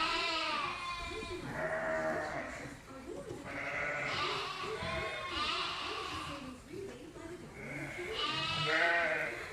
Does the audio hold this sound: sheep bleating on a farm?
yes